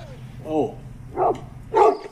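A dog in a film scene barks three times in short, loud, evenly spaced bursts, over a steady low background hum.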